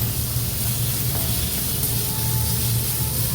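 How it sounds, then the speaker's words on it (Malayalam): Green chillies sautéing in a pan with garlic and ginger during Kerala-style mutton curry prep, a steady close hiss of frying that holds evenly throughout without any talking. "അതിലേക്ക് ഞാൻ ഈ പച്ചമുളക് ഇട്ടുന്ന വഴറ്റുകയാണ്"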